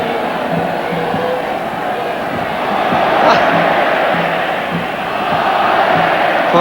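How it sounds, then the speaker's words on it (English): A huge Mexican stadium crowd at the 1986 World Cup match between Argentina and South Korea roars steadily, rising into swelling olé cheers, with a commentator's voice heard over it. "the passing being greeted with some oles from the Mexican crowd"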